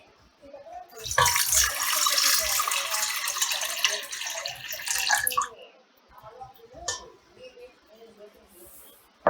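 Water runs loudly into a cooking pot for lemon syrup during a cooking demonstration at a seminar, a steady rushing pour lasting about four seconds, with people talking around it.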